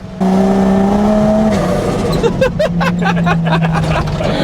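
An old-school Toyota Land Cruiser FJ45 built for remote touring runs loud and close, its engine note humming steadily then shifting pitch as it pulls away, with rattly mechanical clatter and occasional talk over it.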